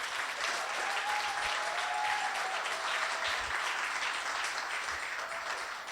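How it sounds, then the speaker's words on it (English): Warm, continuous applause from guests at a farewell celebration, a steady room-filling patter of many hands that holds evenly, with a faint murmur of voices underneath. "Let's give another round of applause for Dennis."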